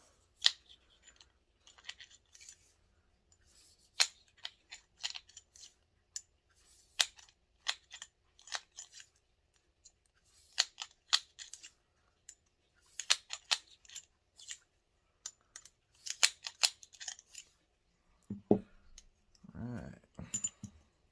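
A cleaning rod is pushed through the barrel of an FMK 9C1 Gen2 pistol from the chamber end, giving scattered sharp clicks and light scraping taps at low level, then a brief low rumble near the end.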